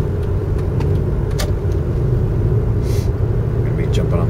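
A car drives onto a freeway, its steady loud road and engine rumble filling the cabin with a few brief clicks and knocks on top.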